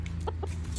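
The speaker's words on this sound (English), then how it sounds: "It's a boy, he's a rooster." A rooster gives a couple of short, soft clucks close by, over a steady low background hum.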